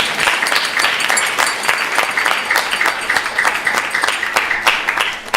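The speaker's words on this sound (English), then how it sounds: "So please give them a big round of applause" Steady applause fills a temple hall during a Sunday evening Balaram Jayanti gathering at ISKCON Phoenix, with dense clapping from a crowd that holds an even level throughout and has no talk over it.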